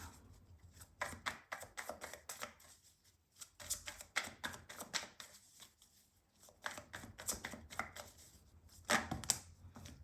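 Tarot cards shuffled by hand in a run of crisp, rapid riffling and slapping bursts, close and fairly loud, pausing briefly between bouts, with no talking.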